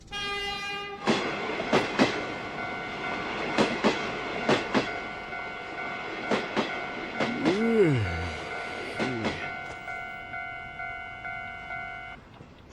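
Train running on rails, with a steady clickety-clack of wheels over rail joints, a sustained multi-tone horn blast, and a brief swooping tone partway through.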